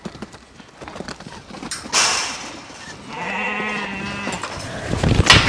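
Lambs and ewes shuffle and bleat in a farm pen during weaning, with hoof clatter and movement noise, and a loud sustained bleat arriving midway before the commotion picks up again near the end.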